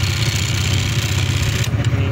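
A Skygo King Cab 200 motorcycle engine runs steadily after a stator replacement, close and loud with an even idle rumble and a slight shift near the end, with no talk.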